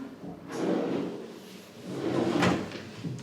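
A hotel room drawer in a Superior King room at the Crowne Plaza Muscat in Oman slides open with two soft, close-up bumps and rumbles about two seconds apart, with no talking.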